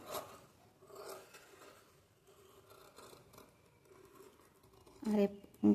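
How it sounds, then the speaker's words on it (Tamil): Scissors cut a marked fabric piece for a blouse at close range: soft, intermittent snipping and rasping strokes, with a couple of louder thumps near the end. "மார்க் பண்ணிவிட்டு இந்த பீஸை நம்ம அப்படியே கட் பண்ணி எடுத்துக்கலாம்"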